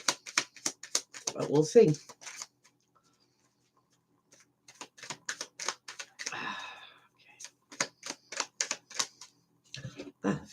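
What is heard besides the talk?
shuffling tarot cards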